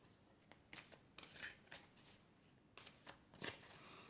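Tarot cards being shuffled and drawn by hand for a Virgo reading, with soft papery riffles and slides in several short bursts, close and quiet, with no talking.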